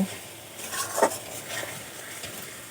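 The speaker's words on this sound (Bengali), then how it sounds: "খুব ভালো করে আমি কষিয়ে নেব" Spice paste for an egg poach curry sizzles softly in oil, a low fry hiss with a few stirring scrapes and one sharp utensil clink, close but fairly quiet.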